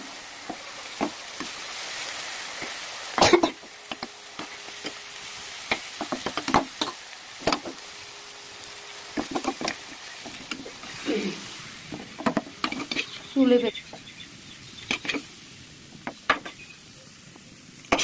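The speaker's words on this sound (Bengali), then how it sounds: "সব কিছু দিয়ে কষিয়ে নিয়ে মোচার ভাজাটাকে দিয়ে দিলাম" Fried banana flower sizzles in a pan as a spatula stirs and scrapes, with frequent metallic clinks and knocks; a faint voice briefly in the background.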